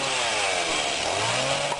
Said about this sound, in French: une tronçonneuse ça suffit